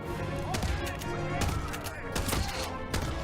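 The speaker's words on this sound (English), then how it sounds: "That's a grenade" A grenade blast with gunfire in the Hitman 3 video game: a dense barrage of sharp bangs and rattling shots comes in bursts over a steady loud mix, with voices talking underneath.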